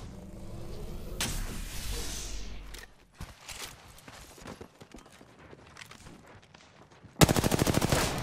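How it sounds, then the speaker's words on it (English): Video game gunfire while a player is being shot at: scattered single shots and sharp impacts crackle through the middle, closing with a loud, fast burst of automatic fire, and no one talks. "Getting shot at."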